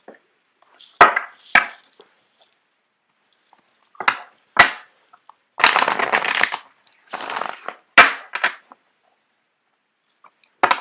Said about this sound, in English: I'm going to shuffle out the cards for you guys.